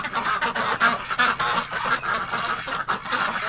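A flock of ducks packed inside a barn in winter, calling over one another in a dense, continuous honking and quacking chorus up close, with no pauses and no voices.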